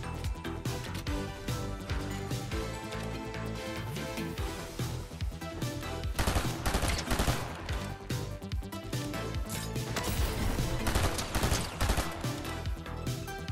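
Video game gunfire with an SMG rattles in dense rapid bursts, loud and nearly continuous, with overlapping shots and no talking heard.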